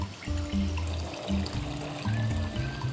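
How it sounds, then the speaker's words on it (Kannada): Water poured into a cooking pot for boiling soaked basmati rice, a steady splashing stream with a faint rising tone as the pot fills, close by over low background tones. "ಇದ್ರ ನೀರು ಹಾಕೊಳ್ಳೋಣ."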